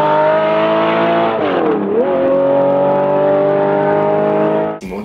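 A Porsche 917 race car engine roars loudly and steadily, its pitch dipping briefly as the driver lifts and then climbing again, before the sound cuts off abruptly near the end.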